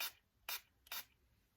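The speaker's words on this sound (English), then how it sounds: "This is just with the like setting spray that I usually use." Makeup setting spray hisses from a pump bottle in three short, faint bursts at a steady pace, each a quick airy puff in a quiet room.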